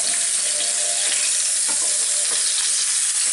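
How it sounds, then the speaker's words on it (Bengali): Koi fish, rubbed with turmeric and salt, fry in hot oil with a loud, dense, continuous sizzle and a few brief crackles, steady throughout with no talking. "আমি এখন এই তেলটার মধ্যে এটাকে একটু অল্প একটু ভেজে নিব।"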